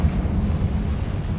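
A Confringo explosion spell in the video game Witch Simulator 2023 lands as a short, heavy, rumbling blast, steady and low-pitched for just over a second.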